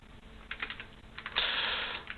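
Rapid keystrokes on a computer keyboard while writing Lua code for a DarkRP ATM script, short bursts of clicking, then a denser continuous run of typing, close and moderately loud with no talk.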